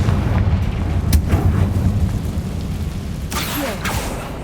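Bombarda and Confringo spells exploding in the video game Hogwarts Legacy: a few booming bursts over a dense, rumbling game soundtrack, with a sharp crack early on and a brighter blast near the end.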